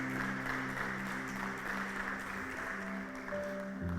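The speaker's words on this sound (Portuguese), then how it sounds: "Você dá uma salva de palmas a Ele?" Applause from a church congregation during a worship service, steady and sustained throughout over a low organ or keyboard drone, with no speech.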